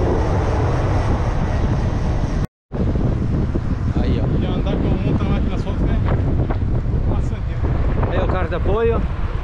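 A strong headwind rushes across the microphone during a mountain bike ride near the Itajaí bridge, roaring loud and constant with a brief dropout, while a rider's voice comes through faintly underneath.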